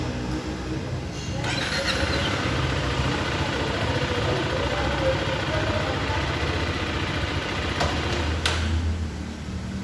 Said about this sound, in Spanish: al estar desplegada y prender la moto y colocar la primera marcha, esta se apagará como se ve en el video